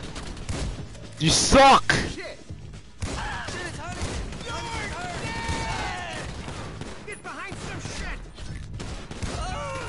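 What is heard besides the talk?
gunfire in the video game GTA 5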